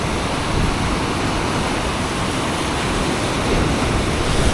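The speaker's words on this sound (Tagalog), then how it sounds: "Wala pa rin tigil yung lakas ng ulan at hangin." A loud, continuous roar of typhoon rain and strong wind on Camiguin de Babuyanes Island, Philippines, dense and unbroken, with gusts buffeting close by.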